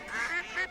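A duck quacking in a radio advert, two or three nasal, close quacks in quick succession, clear and alone.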